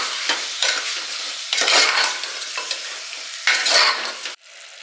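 Mutton frying in a pan on low flame, several bursts of hissing sizzle as the meat is stirred, each swelling and fading, ending with an abrupt drop to quiet.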